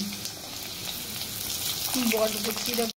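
Flat beans go into a pan of fried potatoes and sizzle, a steady crackling hiss that swells briefly with a few stirring scrapes before cutting off.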